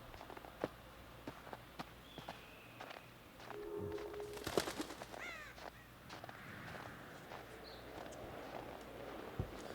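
Crows cawing in the horror video game Until Dawn, a few harsh calls around the middle over faint footsteps and quiet ambient game sound, no speech.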